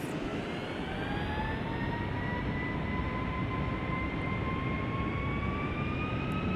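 Twin jet engines of a Boeing 757-300 spooling up for takeoff in the FSX flight simulator, a loud steady roar with rising whining tones that climb slowly in pitch throughout, no talk.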